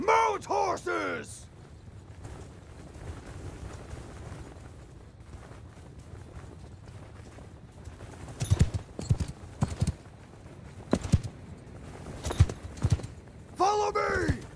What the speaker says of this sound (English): Mount horses!